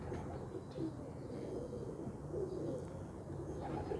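Pigeons coo in a steady, low murmur throughout, fairly close and continuous, with no talking.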